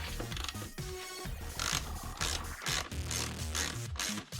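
Socket ratchet working loose bolts on a Renault Clio 172, rapid close pawl clicks and metallic creaks in uneven bursts, fairly loud with no talk.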